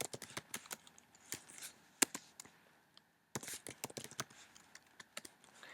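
Typing on a computer keyboard into a spreadsheet, a close run of quick irregular key clicks with one brief pause near the middle before tapping resumes, no voice.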